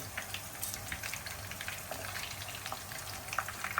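Chicken kofta frying in oil over a medium flame, a steady close sizzle with fine crackling pops and a faint bubbling wash throughout, no voices.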